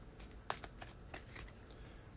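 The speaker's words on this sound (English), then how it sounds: "And I'll shuffle." A deck of oracle cards is shuffled in quick, soft riffling bursts and taps close by, quiet and continuous for a couple of seconds with no talk.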